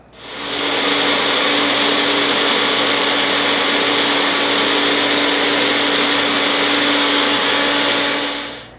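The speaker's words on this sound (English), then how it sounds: "What I like about the magic bullet is I can actually shake it while it's grinding" Magic Bullet blender grinding dried yarrow into powder, a loud continuous motor whine that runs steadily for several seconds, roughly even, with faint rattling of the dry herb inside and a quick wind-down at the end.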